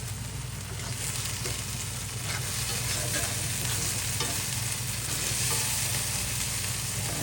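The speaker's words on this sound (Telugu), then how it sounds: "ఒకసారి దీన్ని ఇలా తిప్పేసుకుని అది బాగా ఫ్రై చేసుకోవాలి." Vegetables stir-fried in a pan for street-style noodles give a loud, steady sizzle with continuous scraping and tossing, close and unbroken for the whole stretch.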